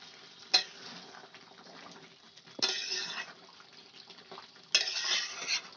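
Chicken simmering in its own released juices is stirred in a pan, with three separate scraping strokes against the metal over a soft, steady sizzle.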